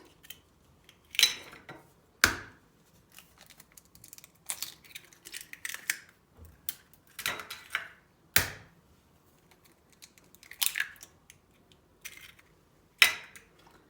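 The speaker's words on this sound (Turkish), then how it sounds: "Karıştırma kabımıza 3 adet yumurtamızı kırıyoruz." Three eggs cracked one after another into a mixing bowl: sharp, close taps on the rim followed by light shell crackles and clicks, spaced out in a quiet kitchen.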